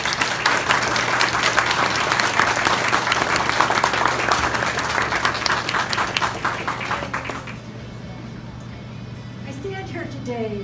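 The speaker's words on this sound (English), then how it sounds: "please give her a big round of applause for her comments." A crowd applauds at an outdoor groundbreaking ceremony for an aquatic therapy pool, loud, dense and sustained for several seconds before cutting off, followed by quieter background hum and a passing voice.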